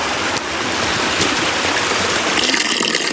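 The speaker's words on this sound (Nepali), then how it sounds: "बाटो बाटोमा यस्तो पानीको सुविधा पनि छ" Water rushes and gurgles in a stream beside a mountain walking trail on the way to Tarahill. The flow is loud, close and continuous, with no voices over it.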